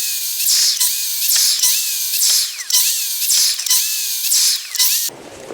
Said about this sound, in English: I'm going to make 10 cuts and then we'll look at the dust.